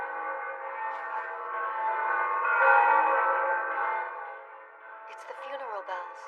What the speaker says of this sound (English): It's the funeral bells.